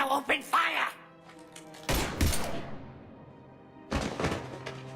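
Mass Effect 3 gunfire comes as heavy thuds and blasts in two clusters, mixed with voices talking over the action.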